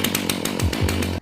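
A chainsaw-like engine snarl with rhythmic pulsing bursts, loud and close, cutting off abruptly at the end.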